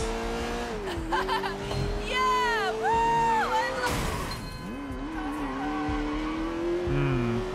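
A car races hard through Sleeping Dogs, engine revving up and down through gear changes with tire squeals and skids, loud and continuous for several seconds; someone talks over it.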